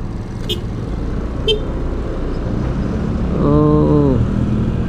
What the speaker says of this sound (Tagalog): Traffic pala dito sa San Felipe.